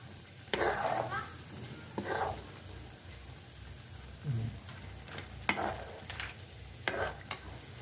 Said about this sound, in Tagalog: haluin natin para dumikit yung asukal